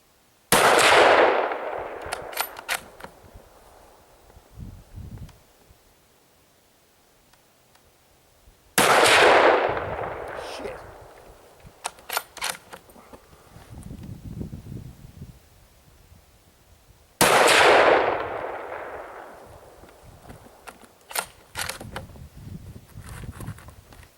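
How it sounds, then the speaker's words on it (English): Three loud, spaced rifle shots from a Remington 700 ADL Varmint in .308 Winchester, each a sharp crack with a rolling echo, separated by about eight seconds of quiet handling and rustling. "we'll see if we can shoot a tighter group now"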